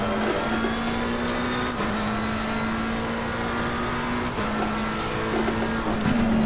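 McLaren 720S GT3 race car engine in Assetto Corsa Competizione, holding a steady high-revving drone in third gear with small pitch shifts, loud and continuous with no talk.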